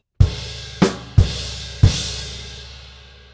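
Drum kit playing a bar from a rock song: four loud, close hits, kick and crash together, the last crash left ringing and slowly decaying, no talk.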